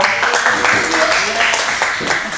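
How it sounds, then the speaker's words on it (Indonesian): Audience applause at an Indonesian school event, a dense, steady wash of clapping from a crowd, with a voice talking over it. "Mari kita kasih tepuk tangan dong."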